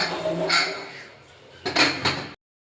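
A metal pressure cooker lid is set and closed over biryani, giving a few sharp clanks and clinks, close and fairly loud, between quieter handling sounds.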